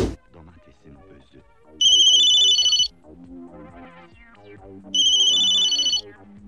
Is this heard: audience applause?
no